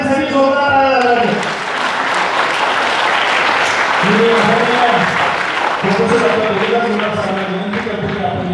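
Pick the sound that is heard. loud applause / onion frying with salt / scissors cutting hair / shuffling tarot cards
loud applause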